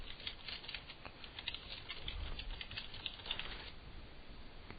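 Fingers type remarks on a PC keyboard while entering notes in a Palm emulator. Soft, quick key clicks patter in an uneven rhythm, quiet and close, with no voices.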